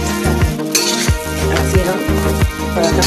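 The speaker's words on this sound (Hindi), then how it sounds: "पराठा को ऑयल के साथ फ्राई कर रहे हैं।" Peas paratha frying in oil on a pan, with steady close sizzling broken by repeated scraping and stirring knocks of a spatula against the pan throughout.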